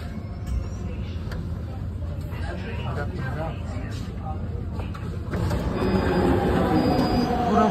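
A metro train pulls into a station, a continuous rumble of wheels and rail noise that swells louder near the end, with squealing tones and excited voices over it.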